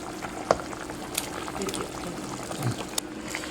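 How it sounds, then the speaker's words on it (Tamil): Goat lung curry with bottle gourd boiling in a pot, steady bubbling and occasional pops and splutters close up, with no talking. "கொதிக்க வச்சு இறக்குனா போதும்"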